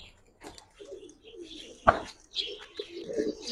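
A male pigeon coos among a loft of domestic pigeons, low soft murmurs recurring through the stretch, with a sharp knock or flap in the middle and faint chirps above.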